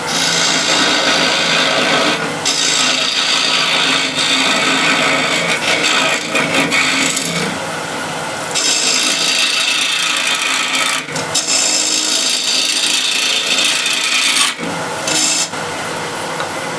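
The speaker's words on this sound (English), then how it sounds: "Trusty square end scraper to hug this out." A square end scraper rasps steadily across wood in long, loud strokes, with short pauses between passes and no talking.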